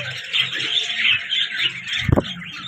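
A pair of Java sparrows calling among caged breeding birds, with continuous high chirping and twittering close by and a short lower squawk near the end.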